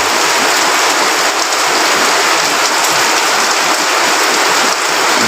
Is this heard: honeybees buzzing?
no